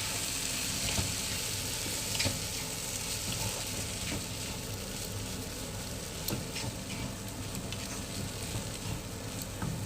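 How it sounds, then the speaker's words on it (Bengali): Soaked poha with onion and tomato sizzling in a frying pan over high heat, a dense steady crackle with scattered stirring clicks, close and continuous, with no voices. "এবার একটু গ্যাসটাকে হাই করে ভাজা ভাজা করব"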